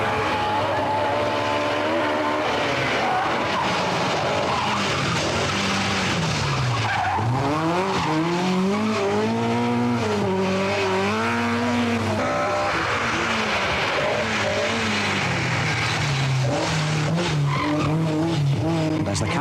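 Rally cars on a special stage of the 1982 Manx Rally, engines revving and sweeping through gear changes with long tyre skids, loud and continuous with rising and falling pitch as the cars pass.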